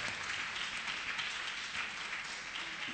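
A church congregation claps steadily during a worship service, a dense, even wash of applause filling the space throughout.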